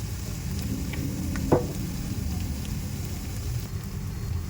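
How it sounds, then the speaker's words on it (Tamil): Ground cumin, pepper, garlic and green chili sautéing for rasam, a continuous soft sizzle and low background rumble with one or two faint stirring scrapes, no speech. "சீரகம், மிளகு, பூண்டு, பச்சை மிளகாய் அதையும் கொஞ்சம் சேர்த்துட்டு வதக்க போகிறோம்"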